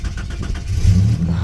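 A warm Ford EF XR6 Falcon engine starts up close by: a brief crank that quickly catches into a low, rumbling idle.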